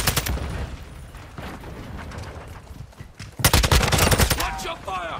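Rapid bursts of gunfire in a multiplayer shooter video game, dense automatic fire in clusters with a loud volley near the end, with voices talking over it.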